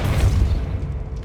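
A Depulso spell cast in Hogwarts Legacy, a single deep booming burst that rolls off and fades over about a second.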